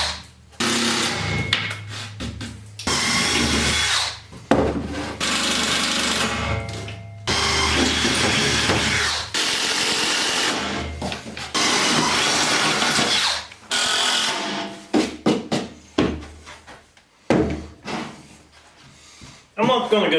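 A power drill drives screws into a wooden table built from old bed rails, with several loud whirring bursts separated by short pauses and clunks, with someone talking in between.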